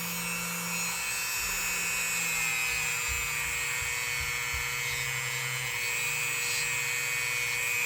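Steady, high whirring grind of a rotary polishing tool buffing the metal bolsters of a refurbished knife, running continuously and close with a low motor hum beneath, no talking.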